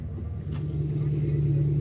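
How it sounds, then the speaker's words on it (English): Hot rod cars pulling into a drive-in movie theater, a steady low engine rumble with a strong idle drone that builds slightly as they roll in nearby. "there's some more hot rods pulling in."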